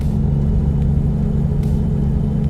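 An inline-five truck engine in American Truck Simulator drones steadily at a constant low hum, a loud, even rumble with faint road noise and no speech over it.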